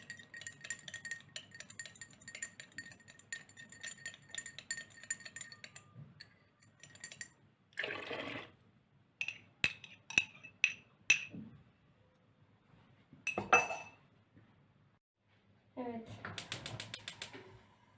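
Milk jam mixture is poured and stirred in a pot, giving scattered metallic clinks, scrapes and rattles of a utensil against the pot that come in short bursts separated by quiet gaps.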